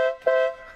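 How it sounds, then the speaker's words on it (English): Aftermarket air horn fitted to a 1965 Austin Mini Cooper S gives two loud, close, brassy blasts: a short first toot, then a longer sustained note. "We did install one of our favorite bad boy air horns."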